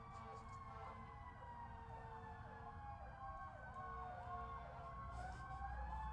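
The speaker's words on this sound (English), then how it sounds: "Do you hear the sirens?" Emergency vehicle sirens wail continuously in the distance in a residential cul-de-sac during the holidays, several overlapping rising and falling tones sustained throughout at moderate level with no talking.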